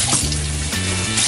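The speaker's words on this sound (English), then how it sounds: "Go ahead and give it 1 more rinse on both of them." Opelu mackerel fish rinsed under a running tap, with a steady close stream of water splashing and trickling over the fish for a brief moment.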